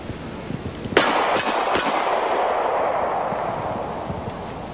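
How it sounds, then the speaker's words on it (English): A multi-shot gun fires at an outdoor shooting show, three loud sharp cracks in quick succession followed by a long rumbling echo that slowly fades. "But let's see the gun in action."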